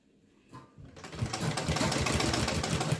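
Sewing machine stitching cloth for a dhoti salwar, a steady whirring run of rapid stitches that starts after a brief quiet moment and continues loud and close to the end.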